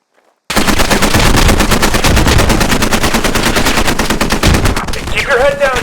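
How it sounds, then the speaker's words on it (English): Sustained automatic gunfire in a live-fire training exercise in the military shooter game Squad, a dense rapid rattle of shots starting abruptly after a brief silence and running loud and close throughout, with a whistling sweep near the end. "this is a live fire exercise"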